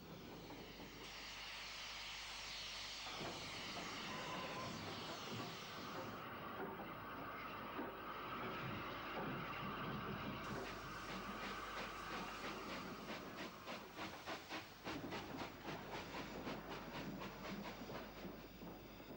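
Steam locomotive Rotterdam Lloyd pulls out with the West of England Express from a long London terminus platform, a loud sustained roar and rumble of steam building into rapid rhythmic chuffing and clanking as it gets under way.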